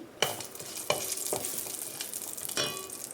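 Whole spices (cardamom, marathi moggu, mace, cloves, cinnamon sticks and stone flower) fry in hot oil in a pan for Bhimavaram-style prawn fry biryani, giving a close, steady sizzle broken by a few sharp stirring clatters.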